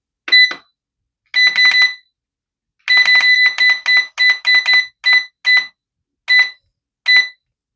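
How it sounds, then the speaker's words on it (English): An oven beeps repeatedly as it is set to preheat to 400 degrees, sharp electronic tones in short clusters and single pips, loud and close, with silence between. "It's going to beep, so y'all hang tight."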